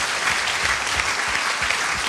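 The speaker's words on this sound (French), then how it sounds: "je voudrais qu'on applaudisse Hugues Maillot" Audience at a French political party event claps steadily and densely, a close, continuous wash of applause throughout.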